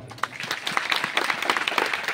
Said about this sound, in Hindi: ताली टिके मारिबा